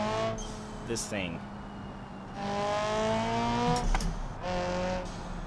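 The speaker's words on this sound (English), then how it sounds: "That exhaust sounds so good" A car's exhaust revs up and down repeatedly in BeamNG.drive, a driving simulation game, with the engine note climbing and falling in several bursts while someone speaks briefly over it.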